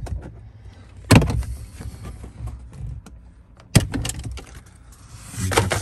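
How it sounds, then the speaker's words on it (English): Plastic cover with snaps pulled loose inside a Jeep: two sharp snapping pops a few seconds apart, with faint rustling and handling of plastic between and after them. "The first thing we got to do here is remove this plastic cover. It's got some snaps on it."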